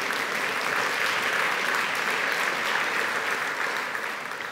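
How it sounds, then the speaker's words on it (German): Sustained applause from a conference audience fills the room, a dense, steady clatter of many hands that holds even and full before easing slightly at the end, with no voices over it. "Und ich finde, das sollte auch mal ein Applaus sein"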